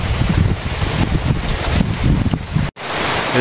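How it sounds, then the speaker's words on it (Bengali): Steady rain hiss with wind-like rushing, fairly loud and continuous, broken by a brief sharp dropout near the end before resuming. "আবার বৃষ্টি শুরু হয়েছে দেখেন"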